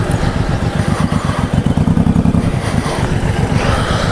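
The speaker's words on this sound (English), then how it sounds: "an M109R Suzuki Boulevard. This bike is a bigger bike" A Suzuki Boulevard M109R motorcycle engine runs close by with a loud, pulsing rumble and throbbing rhythm.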